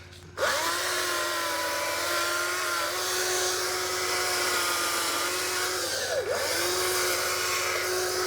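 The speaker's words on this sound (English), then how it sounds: "That's the beauty of having a battery chainsaw too." A battery chainsaw with a blunt chain whines steadily at a high pitch, dipping briefly twice as it bites into a branch, close by and continuous.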